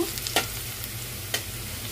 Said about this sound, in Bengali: রসুনটাকে হালকা করে একটু ভেজে নেব